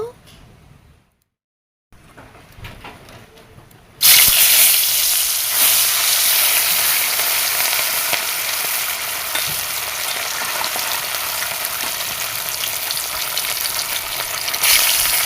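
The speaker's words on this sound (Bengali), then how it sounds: "আমি মাছগুলো ভেজে নেব" Fish marinated with turmeric and salt hits hot oil in a pan over a clay stove, a sudden loud sizzle that settles into steady frying, with quiet sounds and a brief silence before it and talking over parts of it.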